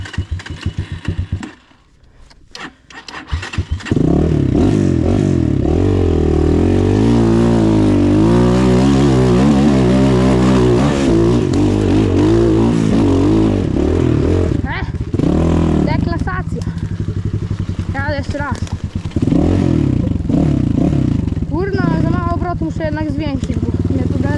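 A vehicle engine revs hard while driving, loud and close, its pitch rising and falling through sustained pulls after a brief quieter start, with someone talking at times over it.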